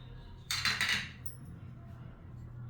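Corn pancake batter being stirred in a large bowl with chopped coriander and green chilli, a short run of quick clinking spoon-against-bowl scrapes followed by quiet low background hum.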